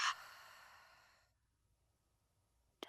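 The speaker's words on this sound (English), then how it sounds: "Breathe out." A single deep breath out through the mouth during a guided breathing exercise. It starts strong and fades away over about a second into near silence, and a brief soft sound comes at the very end.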